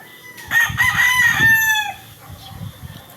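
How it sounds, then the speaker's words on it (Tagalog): Fighting roosters on a farm: one crows loudly and close in a long, drawn-out call, followed by softer scattered clucks and low background noise. "Tuwang-tuwa na kaagad yung mga manok na yan."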